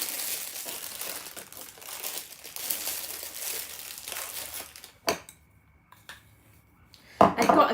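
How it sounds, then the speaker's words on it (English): Cupcake frosting scooped into a piping bag folded back over a hand, with soft crinkling and rustling of the bag for several seconds, then a few isolated crinkles and scrapes separated by near silence. "So let's get these piping bags filled."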